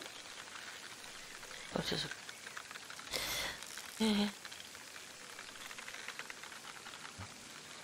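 Steady rain in the Fishing Sim World carp championship on Manor Farm, a soft continuous patter heard throughout under short bursts of people talking.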